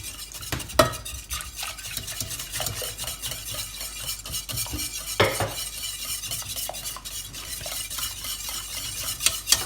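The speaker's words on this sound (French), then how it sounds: "On continue à faire chauffer tout en montant le lait." Béchamel sauce stirred in a pot while milk is poured in, a steady scraping swirl with a soft sizzle, a few clinks of utensil against the pan, close and alone.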